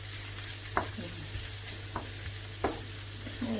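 Fried rice with onion being stir-fried in a pan: a continuous, even sizzle with a few spaced spatula scrapes and taps against the pan, no talking.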